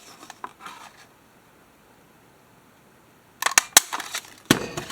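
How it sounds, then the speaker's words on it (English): A scalloped staple punch notches paper: after a few seconds of near silence, a cluster of sharp, close crunching snaps comes in quick succession, followed by one last crisp bite. "I'm going to put a bigger notch in there with my scalloped staple punch."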